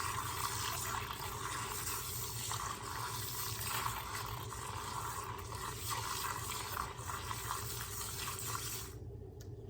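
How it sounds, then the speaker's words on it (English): A steady whirring, bubbling hiss of milk being whipped by a small hand frother, continuous and close, cutting off abruptly at the end. "I'm going to go ahead and bring in a little hand frother as well, just for fun"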